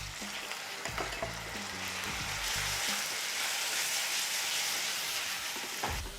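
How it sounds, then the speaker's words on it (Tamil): Ginger garlic paste sizzles as it is sautéed in a pan for chicken salna: a steady, moderately quiet frying hiss, with a few soft stirring knocks near the start and the end. "இஞ்சி பூண்டு பேஸ்ட்டு போட்டு பச்சை வாசனை போகிற அளவுக்கு நல்லா வதக்கிக்கலாம்"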